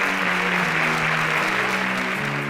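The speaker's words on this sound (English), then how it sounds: "Please, can we give him a resounding round of applause?" Audience applause at the grand finale of a youth competition, dense, steady clapping filling the room for a few seconds while a faint low tone sustains underneath.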